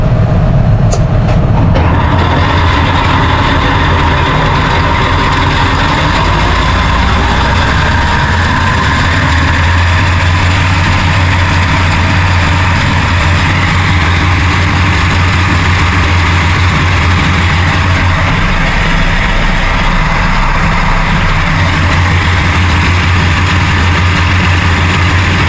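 Tractor engine running loud and close with the PTO engaged to drive farm implements such as toppers, mowers or balers: a continuous heavy low rumble and mechanical drone lasting the whole stretch, with no speech.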